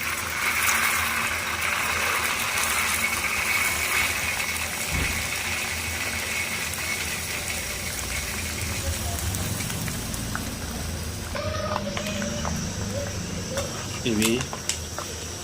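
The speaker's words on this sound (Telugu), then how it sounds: "ఆయిల్ మరిగాక పల్లీలను అందులో పోసుకోవాలి." Peanuts frying in boiling oil in a home kitchen, giving a steady dense crackling sizzle throughout, with some clattering of utensils and a few faint knocks near the end.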